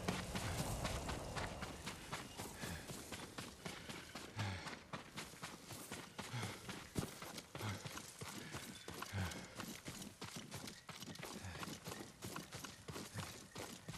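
Horse hooves in the video game Ghost of Tsushima clop rapidly and steadily on hard ground, a busy galloping rhythm that continues throughout with no voices.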